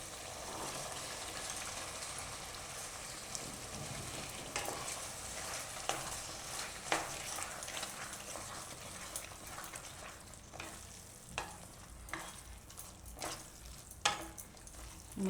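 Corn kernels cook in a thick gravy for makkai methi shaak, a steady broad sizzle with repeated scraping and stirring knocks that grow more frequent toward the end, close and moderately loud, with no talking.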